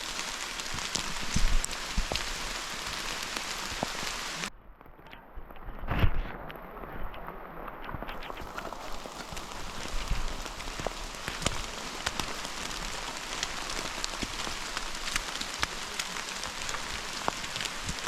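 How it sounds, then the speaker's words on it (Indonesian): Heavy rain pours steadily on the Mount Lawu hiking trail, a dense, loud hiss with scattered drops pattering nearby; a brief muffled dip around the middle, then the downpour continues unbroken. "Sangat deras hujannya kali ini."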